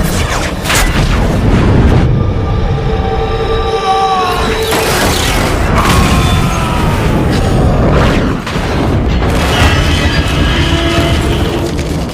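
Explosives going off in a movie scene, with loud booming blasts and crashing debris recurring over a dense, chaotic action soundtrack, strong throughout with brief dips between hits.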